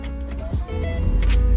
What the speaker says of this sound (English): Of course, the car starts.